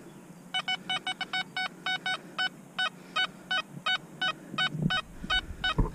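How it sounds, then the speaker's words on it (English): Makro Multi Kruzer metal detector sounding a non-ferrous target from 8 inches deep: a rapid series of crisp electronic beeps in short irregular bursts, clear and near over faint background noise, with some handling rustle toward the end. "This is the sound of the target"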